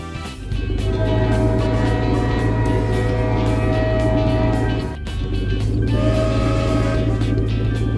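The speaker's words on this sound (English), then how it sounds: "It lands and turns into a glowing train in their yard." A steady rumbling train with droning engine tones runs continuously and loudly, with a brief dip midway before it carries on.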